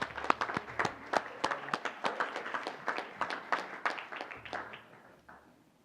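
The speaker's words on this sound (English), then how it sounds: "Let's give another nice round of applause there." A small group at a board meeting claps in distinct, separate beats, a brief round that thins out and fades away near the end.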